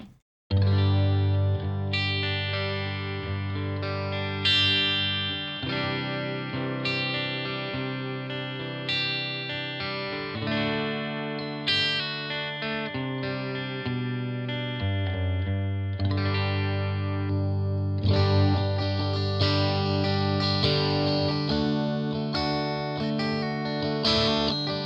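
Ibanez AZES31 electric guitar played on a clean tone with effects, chords and picked notes ringing continuously at steady volume with a chorus-like shimmer and some echo, close and alone without talk.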